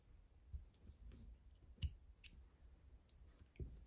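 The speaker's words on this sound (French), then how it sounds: "On va couper notre fil." Scissors snip through knitting yarn after the last stitches of a baby hat are closed, giving two or three sharp, close clicks against quiet background with no talk.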